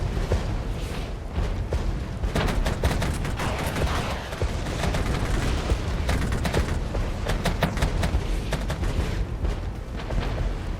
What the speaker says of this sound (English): that artillery is relentless